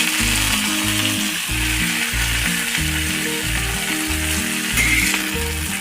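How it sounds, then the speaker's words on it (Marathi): Thalipeeth batter made from sprouted matki flour fries in oil on a tava, with a steady, close sizzle running underneath a loud, rhythmic low-pitched background music. "दोन मिनिटं व्यवस्थित फ्राय करून घेऊया"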